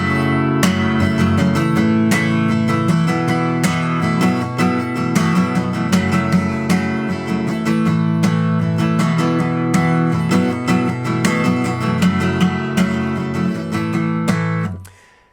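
A song's verse strummed on an acoustic guitar, loud and close. A steady, rhythmic down-up pattern of ringing chords repeats for several bars, then stops abruptly at the end.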